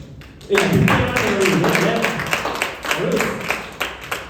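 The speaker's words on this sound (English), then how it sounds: "Can you guys give some round of applause?" Attendees at a project briefing for DAWN KLCC begin clapping suddenly after a quieter moment. The applause is moderate and scattered, with a person speaking over the clapping as it continues.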